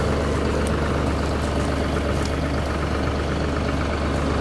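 A Massey Ferguson 4707 tractor engine idles steadily, a continuous low rumble that stays even and close throughout with no voices over it.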